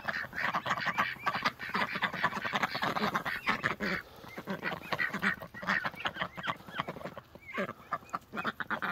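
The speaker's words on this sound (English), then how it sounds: "wild ducks, look, the rescue ducks" A crowd of ducks and geese quack and honk continuously nearby, overlapping calls in a busy, noisy chorus.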